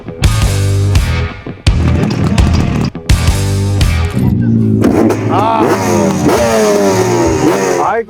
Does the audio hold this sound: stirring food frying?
no